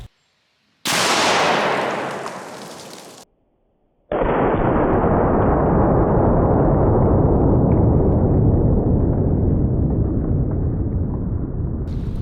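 A .50 BMG rifle fires outdoors: a loud, sharp blast that fades into a rumbling tail, then a second heavy burst that holds a long, sustained roar.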